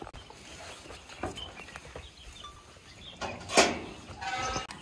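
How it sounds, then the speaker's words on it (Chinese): Two young goat kids, about ten days old, give a few faint, thin bleats indoors at a mountain home in Guizhou, with light shuffling and patter around them and no speech. "这2只小羊是刚出生的吗？"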